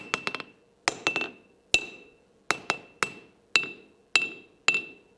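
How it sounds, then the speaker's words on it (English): A mounted anvil struck by a hammer gives sharp metallic hits with a high, bright ping ringing after each, in small clusters and single blows spread over several seconds, close and alone. "that killed a lot of the ring, but you can still hear that high ping"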